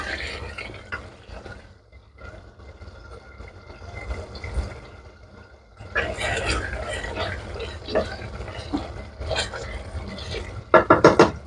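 Green chili being stirred into mutton handi cooking in oil, a wet scraping and bubbling that runs through the whole stretch, growing busier and louder in the second half with a few sharp clinks near the end.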